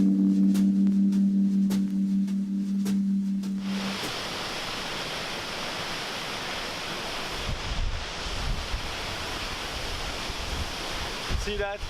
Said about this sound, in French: nous avons trouvé cette magnifique cascade